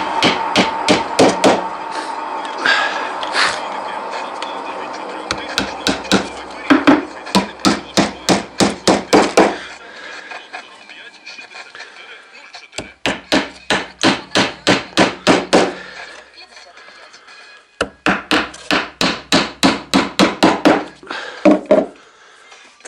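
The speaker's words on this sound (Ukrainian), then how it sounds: "і прибиваємо теж" Hammer driving nails into the wooden body of a beehive being built in an apiary, heard as loud, near, rapid runs of sharp blows in several bursts separated by brief pauses.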